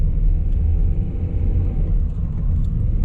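A car drives along a winter street in Mirny, its steady low engine rumble and tyre noise continuous and close throughout, with no talking.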